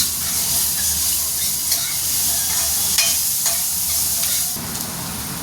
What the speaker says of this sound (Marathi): कांदा, हे परतून घेऊया आपण.